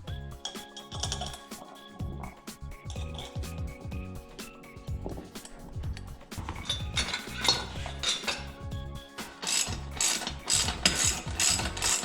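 Repeated ratcheting clicks and metallic clinks from a hand ratchet tightening the chain on a Mega Moto 80 e-bike during a swingarm build, with bursts of rhythmic pawl clicking that grow busier and louder toward the end.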